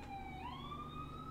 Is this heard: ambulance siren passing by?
yes